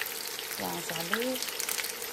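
Chopped onion frying in a hot pan gives a steady, even sizzle throughout, with a short stretch of a voice in the middle.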